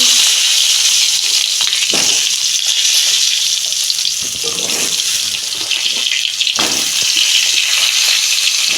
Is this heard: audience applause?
no